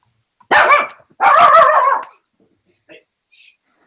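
A dog barks in two loud bursts close by, with quieter yips trailing after, during an indoor planning meeting.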